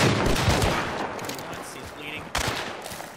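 Automatic gunfire from a video game gun, a loud burst of rapid shots that thins out and then returns with a sharp final crack, heard alongside voices in the game.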